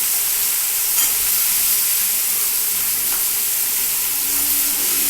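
Cauliflower and carrots frying lightly in oil give a steady, close sizzling hiss with faint occasional crackles, no voices over it.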